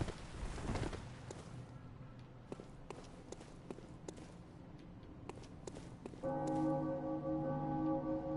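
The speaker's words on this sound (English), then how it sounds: "Thank you, ominous bell tone." An ominous sustained bell tone rings out in the video game Bloodborne, entering late and holding steady over scattered footstep taps and a faint dark ambience.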